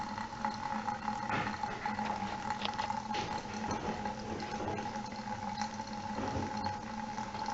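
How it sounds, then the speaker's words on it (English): Water slowly drains from a residential water heater tank under very low pressure, a steady faint trickling and hissing wash that continues evenly throughout without pauses, with no voices. "It's going to drain pretty slowly because there's"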